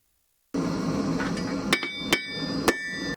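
A blacksmith hammers metal at a forge, three sharp ringing strikes a little under a second apart, close and loud, over a steady roar from the forge.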